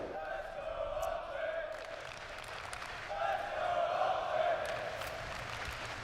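Crowd at a Call of Duty League match between OpTic and FaZe, a sustained roar of cheering and applause that swells louder midway, heard at a distance under faint talk.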